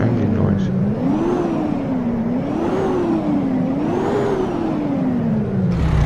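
A Mercedes car engine runs steadily and loud, its pitch rising and falling in slow, even cycles like gentle revving, close up and unbroken throughout.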